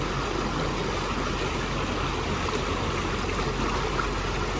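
A 43-horsepower engine with a double-muffler exhaust on a 24-foot boat on the Norfolk Broads hums steadily and quietly beneath a wash of moving water, with no voices over it.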